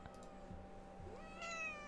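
A cat meows a few times, fairly faint, with one longer rising meow near the end, over quiet background noise and no talking.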